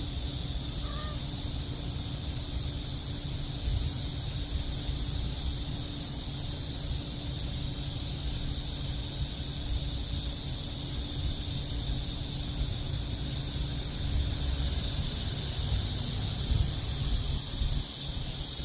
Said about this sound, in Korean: 이상한 매미